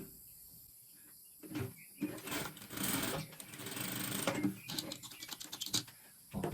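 A sewing machine stitches a seam on a fabric placemat, starting with a few short taps and then running in a loud, close, continuous whir before slowing into stuttering bursts and stopping.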